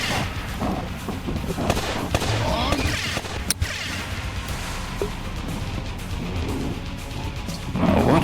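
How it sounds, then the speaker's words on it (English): Gunfire rattles through a VRChat roleplay battle, dense bursts and bangs with one sharp loud crack, busy and close, with indistinct voices mixed into the din. "All lead front units, open fire!"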